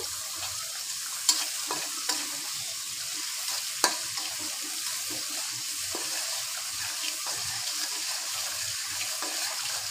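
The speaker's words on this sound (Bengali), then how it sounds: "পেঁয়াজটা কিছুক্ষণ ভাজা" Onions frying in a pan with mustard and peanut paste nearby, a dense, continuous hiss of hot oil with occasional soft stirring scrapes, close and steady throughout.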